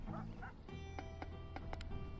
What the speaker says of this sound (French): C'est bien, t'es un bon chien.